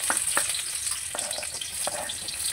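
Onion and garlic sautéing in hot oil for ginisang sayote with shrimp, giving a constant bright sizzle with several short spatula scrapes and clacks against the pan, nearby and without voices.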